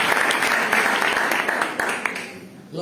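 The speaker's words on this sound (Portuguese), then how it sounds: "Aplauda ao Senhor" A church congregation clapping during a lively worship service, a brief loud burst of applause with voices mixed in that fades toward the end.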